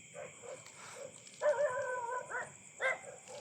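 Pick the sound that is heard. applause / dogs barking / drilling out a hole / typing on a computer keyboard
dogs barking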